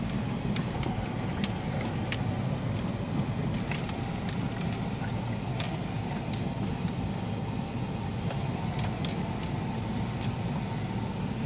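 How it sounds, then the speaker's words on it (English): Cars heard far off on a road near a Mexican river bed, a steady low rumble of traffic with faint clicks and knocks over it and no voices. "Is there some cars over there?"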